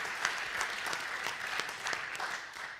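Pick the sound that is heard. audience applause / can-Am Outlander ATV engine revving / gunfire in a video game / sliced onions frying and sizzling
audience applause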